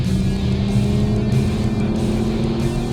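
A race car circuits the Spa track, braking and shifting down a gear, its engine a steady loud drone heard from on board, with no talk over it.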